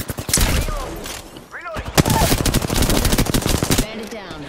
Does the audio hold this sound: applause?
no